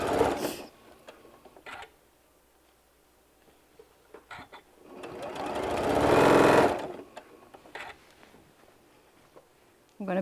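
A sewing machine stitches a seam on large bean bag fabric, with brief clicks and short whirs and then one longer, louder run of stitching in the middle, close by amid quiet handling sounds.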